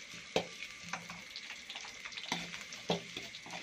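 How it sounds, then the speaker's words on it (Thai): Aromatic paste being stir-fried in a pan for a Thai dish of bean sprouts with pork belly, with close, steady sizzling and sharp scraping stirs striking the pan several times. "เราจะผัดเครื่องให้หอมก่อนนะพี่น้อง"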